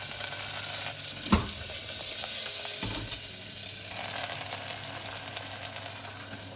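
Onions and green chilies hitting hot oil already spluttering with mustard and cumin seeds give a steady, dense sizzle, with a couple of sharp clatters from the pan and spoon early on. The frying stays loud and even throughout, with no one talking.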